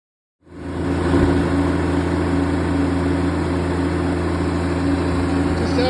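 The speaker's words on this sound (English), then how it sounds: "Out here on the new tractor" A new farm tractor's engine runs steadily at idle, a loud low rumble that starts after a brief silence and holds without pause, with no voices.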